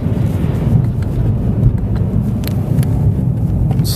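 Cadillac CTS-V or Mercedes-Benz E63 AMG sport sedan engine droning loudly and steadily on a track with heavy low rumble and wind buffeting, no talk.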